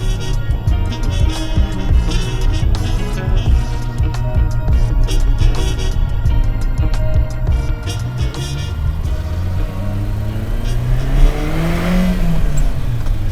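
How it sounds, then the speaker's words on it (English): A 1978 Ferrari 308 GTB with stock exhaust pulls hard along a country road, its engine note loud and close, rising steadily through the revs, easing near the end and then climbing again. "Nice acceleration down this country road."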